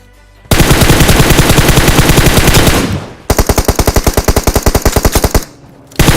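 Loud, rapid automatic fire from an M416 rifle in a video game comes in two long sustained bursts split by a short pause, each a dense stream of shots at close range.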